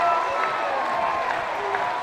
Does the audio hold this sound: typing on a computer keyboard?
no